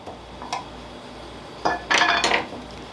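Metallic clinks and a short scraping pry as the lid is worked off a can of oil-based polyurethane in a workshop, with a faint tap first and louder clatter toward the end.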